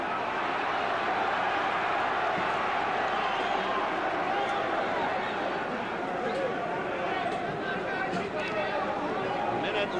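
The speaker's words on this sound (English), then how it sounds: "crowd has gotten a kick out of it, as you can hear." A boxing crowd at the Muhammad Ali versus Joe Bugner fight roars and murmurs continuously at a steady loud level, with a commentator's voice talking over the noise throughout.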